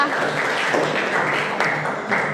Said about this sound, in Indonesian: Tepuk tangan sekali lagi untuk kalian semua